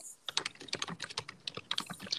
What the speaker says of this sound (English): Somebody's typing away. I can hear that.